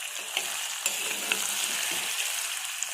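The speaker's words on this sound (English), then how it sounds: "So after cooking, give it a mix." Cooked masala rice is mixed in a pan, giving a soft, steady hiss with a few light spoon taps against the metal.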